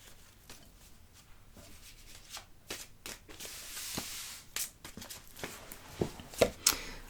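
A deck of tarot cards being cut and handled close by, giving scattered soft taps and papery clicks with a brief riffling flurry midway, quiet throughout.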